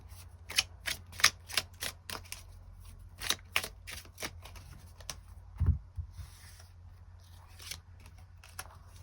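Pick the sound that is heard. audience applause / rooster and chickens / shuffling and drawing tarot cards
shuffling and drawing tarot cards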